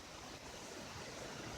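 The Tye River in the Peddler District flows past its bank in a steady, broadband rush of moving water, continuous and fairly close, with no voices.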